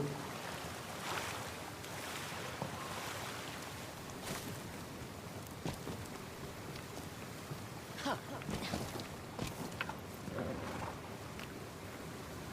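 In the PS5 game Ghost of Yotei, water and waves wash and rush in a steady, noisy surge with wind-like roar and occasional splashes, while a voice talks over it at times.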